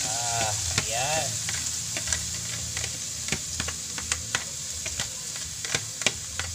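Bamboo shoots sautéing in oil with garlic in a pan: a steady close sizzle runs throughout, broken by light scraping and tapping of a utensil as the shoots are stirred.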